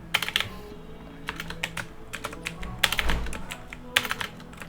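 Keys clatter on a computer keyboard as text is typed, quick irregular runs of close, crisp clicks with brief pauses between bursts.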